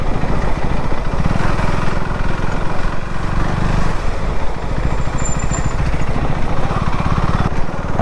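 KTM Duke 390 motorcycle engine running steadily while riding through city streets, a loud continuous low rumble with constant road and wind noise throughout.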